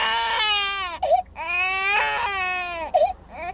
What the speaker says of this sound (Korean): 한 아이가 울고 있습니다.